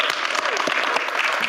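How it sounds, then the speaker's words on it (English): At a city board of directors meeting, attendees break into brisk applause for a retiring colleague, a loud, close patter of clapping hands filling the whole short moment. "And let's give her a round of applause."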